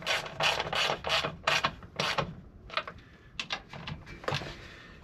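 Ratchet wrench snugging 8mm bolts on the oil filter housing of a Ford 6.7L Powerstroke diesel truck, heard as a series of short, close rasping clicks in bursts, pausing briefly between strokes.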